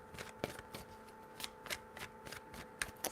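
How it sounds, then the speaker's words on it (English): Tarot cards are shuffled in a quick run of crisp riffles and soft slaps, about a dozen short bursts in an uneven rhythm, close and quiet with no talking. "3 shuffles."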